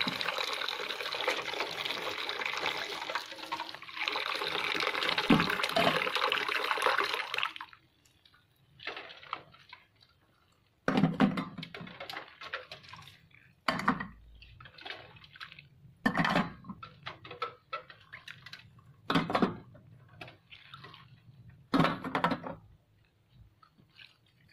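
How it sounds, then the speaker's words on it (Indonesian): Running tap water rinses cupping equipment: a steady close gush for several seconds, then short, separate bursts of splashing and trickling as pieces are held under the flow. "gunakan air yang mengalir dari keran."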